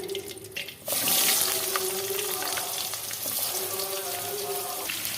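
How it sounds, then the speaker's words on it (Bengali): Papaya and potato drop into hot oil with a sudden sizzle that settles into a steady, crackling fry close by. "এবার তেলের মধ্যে আমি পেঁপেটা আর আলুটা ভেজে নেব"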